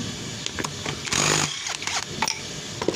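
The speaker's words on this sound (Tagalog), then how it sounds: "Tanggalin natin ang magneto gamit ang 19mm" A 19mm socket wrenching the magneto off a Supremo 150cc motorcycle engine during teardown, with close metallic clicks, scrapes and a short sustained grinding rasp, loud and with no talking.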